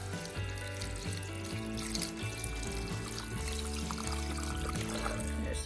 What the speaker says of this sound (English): Up next, we're gonna add 6 cups of water.